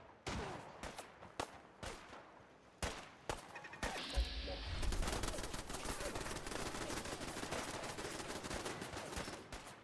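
Gunfire in Fallout 4 near Oberlin Station, sharp separate shots at first, then a continuous rattle of automatic fire and explosions, fairly distant and faint.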